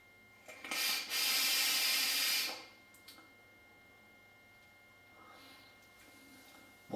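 A vaper draws on an Eleaf Melo RT 22 atomizer at 50 watts with a 0.30 ohm coil, a near hissing crackle lasting about two seconds, then quiet room tone and a faint second puff.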